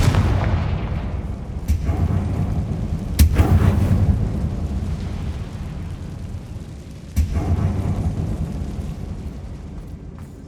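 The Confringo fire spell in Hogwarts Legacy lands as deep, rumbling blasts, with sharp booms at intervals over a continuous low roar.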